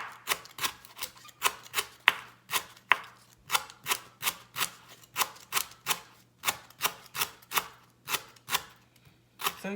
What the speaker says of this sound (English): I'm gonna chop my lemongrass just like that